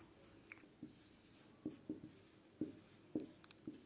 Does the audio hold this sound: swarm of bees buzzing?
no